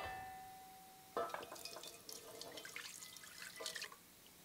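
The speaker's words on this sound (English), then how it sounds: "I'm going to add some stock to this pot." Stock poured into a pot while making turkey gravy on the stove, a close splashing trickle that starts abruptly and runs for a few seconds with small drips and sloshes, alone without talking.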